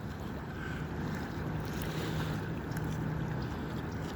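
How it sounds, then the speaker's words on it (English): A river flowing past in a steady, continuous broadband wash of water, with wind noise on the microphone and no voices. "Looking at the river, it continuing to flow."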